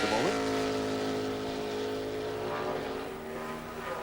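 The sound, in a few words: NASCAR race car coming off the corner at Daytona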